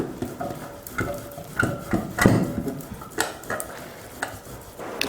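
A boiled potato is grated by hand, giving irregular scraping strokes with light metallic clatter from the grater against a dish, close and moderately loud.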